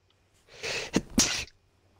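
A single sneeze, close and fairly loud, with a sharp intake building into two bursts, against a quiet background.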